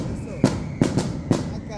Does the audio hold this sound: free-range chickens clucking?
no